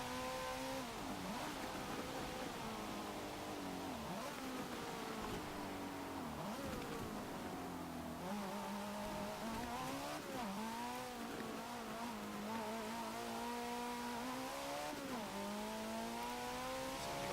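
A 2013 Mercedes-Benz A 45 AMG in Forza Motorsport 7 revs hard through rising and falling engine pitch as it accelerates and shifts, a continuous loud buzzing drone with a brief tire squeal.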